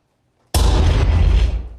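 A sudden loud explosion bursts in after half a second of silence, a deep rumbling blast that holds its roar and slowly tails off.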